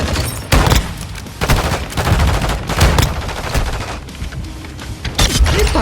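Rapid gunfire from the Lockwood 300 in a shooter video game comes in loud, close bursts and volleys, separated by short gaps, with no talking.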